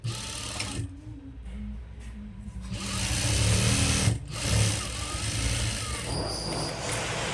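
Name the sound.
sewing machine stitching chudi pant pocket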